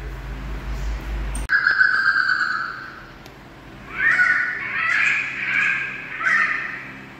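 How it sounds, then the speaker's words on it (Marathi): A recorded great hornbill call played back at a nature centre in Sahyadri Tiger Reserve: loud, harsh honking caws, one long call early and then a rapid series of overlapping barks, heard close through a speaker. "आता आपण ग्रेट हॉर्नबिलचा आवाज बघूया."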